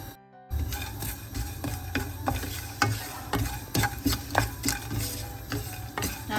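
Whole star anise, a few cardamom pods and crushed nutmeg dry roasting in a pan for chicken curry, giving a steady scraping stir with light sizzling and repeated sharp utensil taps against the pan, close and fairly loud.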